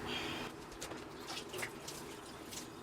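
Water runs into a sink while tie-dyed shirts soaked in a vinegar and water solution are handled, a steady splashing hiss with scattered drips and wet sloshing.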